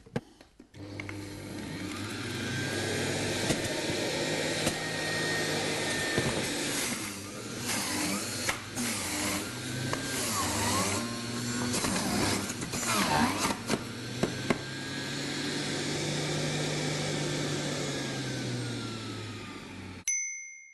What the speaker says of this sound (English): if the motor starts to labour at all, just give it a little release, then start juicing again